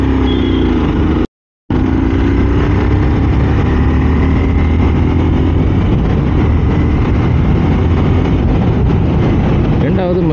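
Honda CBR250R motorcycle engine droning steadily while being ridden on the road, with loud wind rush and a brief dropout near the start, someone talking over it throughout.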